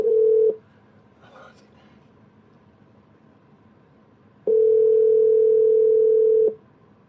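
Steady telephone tone sounding twice, a short burst then a longer two-second hold, with a faint click and quiet line noise between, before a call goes to voicemail.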